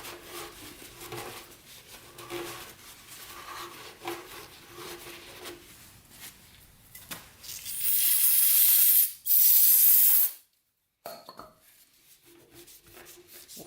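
Brake cleaner is sprayed from an aerosol can onto the threads of a barn-find Honda CB350 motorcycle. The hiss comes in two loud, close bursts of about a second each, after quieter rubbing and handling sounds.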